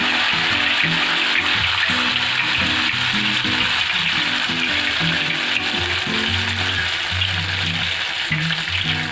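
Ghewar batter fries in hot ghee with a loud continuous sizzle and bubbling froth. It sounds close and steady, with no voices.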